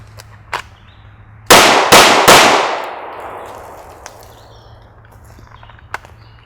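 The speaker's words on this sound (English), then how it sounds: "I'm going to shoot one-handed" A handgun fired one-handed at a target outdoors gives three loud, sharp shots in quick succession, each with a ringing decay. Quieter handling sounds come before and after.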